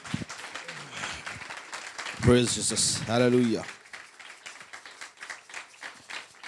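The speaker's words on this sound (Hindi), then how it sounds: "अपने पास्टर जी को ज़ोरदार तालियों से वेलकम" A church congregation claps loudly to welcome the pastor, a sustained patter of many hands under voices calling out praise and hallelujah.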